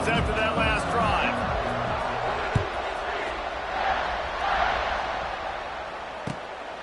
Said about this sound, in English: this crowd is feeling themselves after that last drive